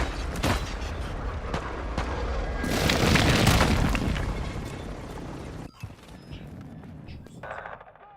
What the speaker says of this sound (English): Airstrike near your location.